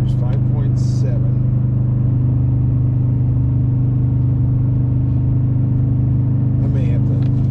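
Steady, loud low rumble of a 2021 Toyota Tundra 5.7-litre four-wheel drive towing a Cimarron trailer in the Rockies, heard from inside the cab with people talking over it.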